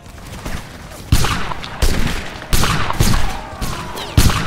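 A musket volley in a line-battle video game: loud, close, ragged bursts of many shots cracking together in repeated waves, each leaving an echoing tail, with no talk.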